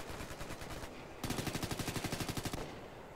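Rapid automatic gunfire in the video game Ghost Recon Future Soldier: a steady burst of evenly spaced shots, then a louder, longer burst of about fifteen rhythmic rounds that cuts off abruptly, close and dense.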